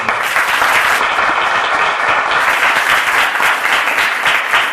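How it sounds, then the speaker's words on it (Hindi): An audience at a live Hindi worship service claps in a dense, sustained round of applause that stays loud and even throughout, with no one speaking over it. "ताली बजाने तो अच्छी से ताली बजाने"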